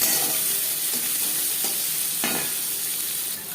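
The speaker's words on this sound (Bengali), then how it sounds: "দু তিন মিনিট পেঁয়াজ হালকা করে ভেজে নেওয়ার পর" Onions fry in hot oil with panch phoron and bay leaf, a steady dense sizzle close by with faint stirring scrapes, loud and continuous without voices.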